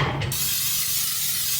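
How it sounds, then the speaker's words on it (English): Cooking oil spray hisses into a pan for eggs in one continuous, close, fairly loud burst lasting a second or so. "this is the absolute best spray for eggs"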